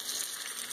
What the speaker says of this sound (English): we already got the first piece of chicken in the frying pan. You can hear it to the side here